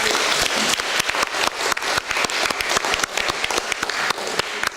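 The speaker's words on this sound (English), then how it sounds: "Can I just ask for a round of applause for our speakers?" An audience at a community referendum meeting in Buckie gives a brisk round of applause for the speakers, dense and steady clapping close by throughout, with no talking.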